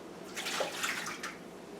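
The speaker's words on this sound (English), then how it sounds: "From the tap I'm getting some water it's pretty hot" Hot water pours steadily from a kitchen tap, a continuous hissing rush with no voices over it.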